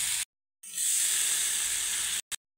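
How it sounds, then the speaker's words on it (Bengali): Water poured into a pan of hot frying spices with meat masala and garam masala bursts into a loud, steady sizzle lasting nearly two seconds, after a brief initial hiss and short pause, ending with a quick final spit. "এবার অল্প জল দিয়ে দেব।"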